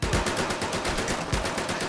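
Gunfire in the VR shooter Medal of Honor: Above and Beyond rattles out as a rapid, loud burst of automatic shots close by, carrying on without pause for the whole stretch.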